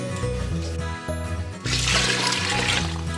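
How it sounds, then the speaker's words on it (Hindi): Roughly two litres of water poured into a large pot over fried masala for degi chicken pulao, a steady, fairly loud rushing pour that swells in the second half. "और 2 लीटर के करीब पानी डालेंगे।"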